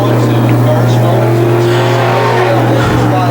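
Pro Stock race cars thunder around Can-Am Speedway, their engines a loud, steady, close roar that never lets up, with a commentator's voice faintly under the din.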